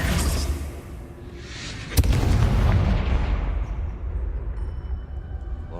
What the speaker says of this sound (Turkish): Lan orada patlama.